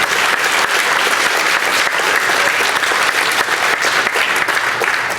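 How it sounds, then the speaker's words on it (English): An audience claps for a police officer and a firefighter, giving loud, dense, sustained applause that stays even for several seconds. "Let's have a round of applause for our police officer and the firefighter."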